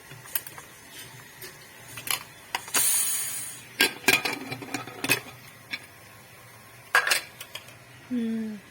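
Pressure cooker being opened after cooking tomatoes, with sharp metallic clanks and clatters of the lid and pots, a brief hiss-like burst, scattered taps and knocks, all close and intermittent without talk.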